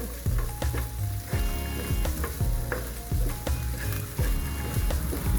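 Karchikai filling stirred in a hot pan, a loud continuous sizzle broken by repeated scraping strokes of a spoon against the metal, close up and without voices.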